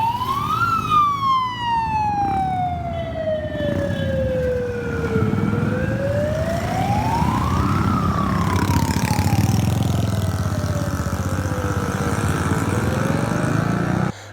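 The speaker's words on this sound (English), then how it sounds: "Have a look at this tuk-tuk that is, you know, blowing a siren" A tuk-tuk blows a loud, close wailing siren that sweeps slowly up and down in long rising and falling tones for the whole stretch, over steady traffic rumble.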